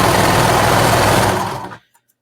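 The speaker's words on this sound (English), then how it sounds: "We're going to sew along that little end at 3/8 inch seam allowance." A sewing machine runs steadily, stitching a short seam along the edge of a shoulder piece on a tank top at 3/8 inch seam allowance, close and loud, then stops abruptly near the end.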